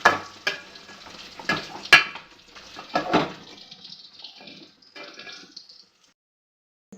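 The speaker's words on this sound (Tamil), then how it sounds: "ஒரே ஒருக்கா கிளறி விட்டுக்கிடுவோம்." Frying fish is stirred once in a pan after salt is added, with close scraping and sizzling bursts, a few sharp clinks, then quieter sizzle fading almost to silence.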